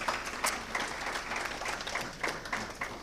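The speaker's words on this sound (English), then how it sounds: "Let's give a round of applause for them." An audience at a research and policy symposium applauds in a steady, moderately loud patter of many hands, heard from within the room.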